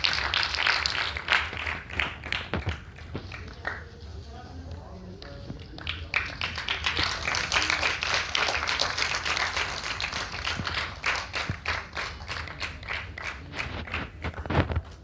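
An audience at a stage event claps to welcome a guest, with uneven bursts of hand claps that rise and fall over fifteen seconds, mixed with murmuring voices and a few sharper single claps.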